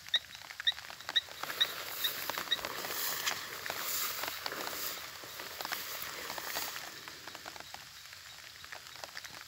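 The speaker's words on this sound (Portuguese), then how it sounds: "os sapos, meu amigo, fazendo a festa" Heavy rain falling across Pernambuco in northeastern Brazil, a steady pattering downpour with faint chirping and croaking calls of frogs mixed into the wash, no voices.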